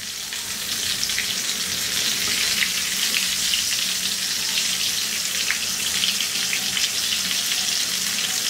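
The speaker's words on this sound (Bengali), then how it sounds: "আমি এইভাবে বেগুনটাকে ভেজে নিব, কিন্তু পোড়া পোড়া করবো না" Eggplant slices fry in hot oil in a Bengali home kitchen, a continuous crackling sizzle with occasional stirring, close and without speech.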